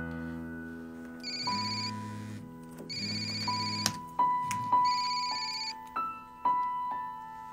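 A telephone ringtone sounds in repeated electronic bursts with short gaps between them, fairly loud and close, followed by a few softer plucked melodic tones.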